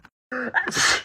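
A single sharp sneeze with a quick breathy intake before it, loud and close, ending in a broad hissy burst.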